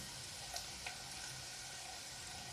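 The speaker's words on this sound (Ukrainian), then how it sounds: "І тепер нехай перчик і це все капусточка, все обсмажується." Cabbage, pepper, carrot and onion fry in a pan with a soft, steady sizzle, faint and even throughout, broken by a couple of small ticks or stirring taps.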